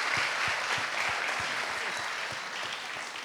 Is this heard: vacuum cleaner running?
no